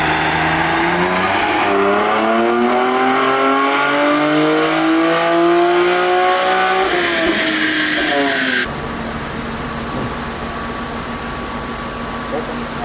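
A BMW F82 M4 with a six-speed manual on E85 fuel, engine revving hard on a dyno run: a loud, rising wail through the revs that cuts abruptly to a lower steady drone, close by, with no voices.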